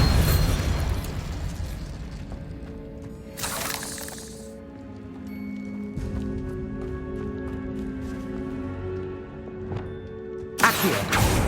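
A Bombarda explosion spell goes off in Hogwarts Legacy with a loud burst and booming rumble, then fades to a lower hum with tonal ringing before a second sharp blast near the end.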